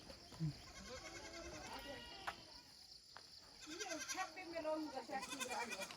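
Goats bleat in short calls at moderate distance during a family outing, with people chatting over them and faint insects in the background.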